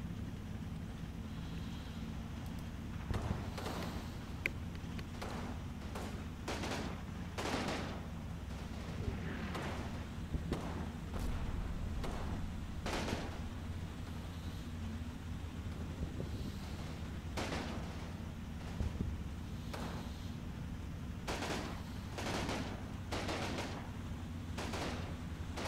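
Machine gun and artillery fire in a World War II combat video game set in Normandy, with a steady low rumble of distant battle under repeated sharp bursts and thumps spread across the scene, no talk.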